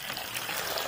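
Water pouring into a basin while someone prepares a meal, a faint, continuous trickling splash that lasts the whole short moment with no voices.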